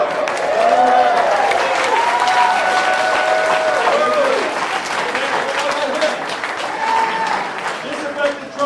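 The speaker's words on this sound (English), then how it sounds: "Let's give them a round of applause." Audience applause and crowd noise at a political campaign event, with a voice speaking loudly over the clapping throughout. The applause holds steady and fills the background the whole time.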